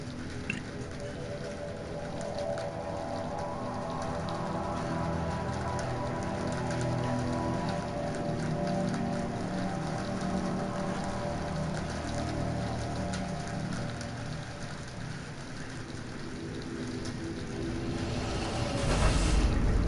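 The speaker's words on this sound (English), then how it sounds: "I love the sound of the rain." Steady rainfall in the video game Mass Effect 2, a dense continuous patter on surfaces with soft low rumble beneath, holding even throughout before a brighter swell near the end.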